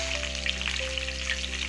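Curry leaves and green chillies sizzling in hot oil with mustard and cumin seeds in a pan for a potato fry, a steady dense hiss with small crackles throughout, close and even, no voices.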